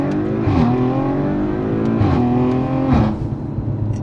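An Audi RS5-R ABT with a 510 hp engine revs close by in three loud, rising bursts, each easing back to a rumbling idle between blips.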